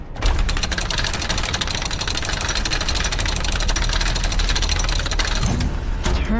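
A crank being reset in the horror game Five Nights at Freddy's: Secret of the Mimic, a loud, steady mechanical rattling with rapid regular clicking that runs continuously for about six seconds before cutting off.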